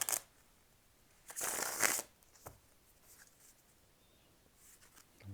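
Tarot cards being shuffled during a reading: two or three brief crisp riffling bursts with soft taps and rustles between them, close up and alone without voices.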